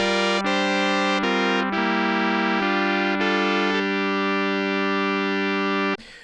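A bright, buzzy FM synthesizer tone with modulators routed in series into the carrier holds steady pitches, shifting timbre in several abrupt steps, loud and alone before cutting off at the end.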